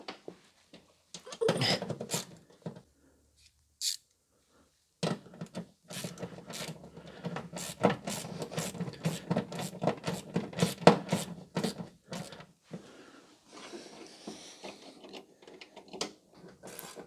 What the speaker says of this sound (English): So I've got a 5 mil Allen key, and then I've got a 10 mil across the flats socket